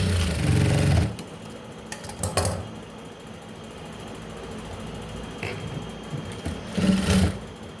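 A sewing machine stitches a blouse side seam in brief bursts: a one-second run, a quick short pulse, then another short whirring run near the end, separated by quieter mechanical rattling.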